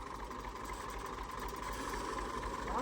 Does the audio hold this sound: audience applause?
no